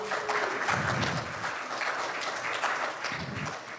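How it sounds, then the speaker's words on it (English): Audience applause at a veteran landlord appreciation awards ceremony, a steady wash of many hands clapping at moderate volume, with a few voices mixed in. "can we give a round of applause for them one more time?"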